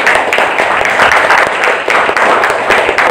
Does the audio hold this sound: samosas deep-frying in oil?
no